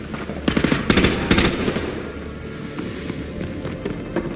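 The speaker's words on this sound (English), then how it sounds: "Roach, suppressing fire." Bursts of suppressing automatic gunfire ring out in Call of Duty: Modern Warfare 2 Remastered during the Gulag mission. Loud, rapid volleys come in the first two seconds, then the fire thins to more scattered shots and battle noise.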